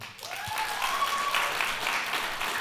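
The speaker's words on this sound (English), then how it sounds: "By round of applause," A church audience at a sermon breaks into loud, sustained applause that fills the room steadily for a few seconds.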